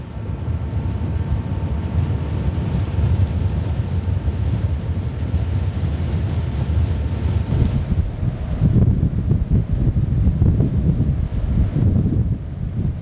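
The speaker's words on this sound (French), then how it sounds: "Nous avons une poussée de vent de 10 mètres par seconde" A strong gust of 10 metres per second blowing around a swing door fitted with a DORMA ED100 operator, a loud, continuous low roar of wind buffeting that surges and swells without talk.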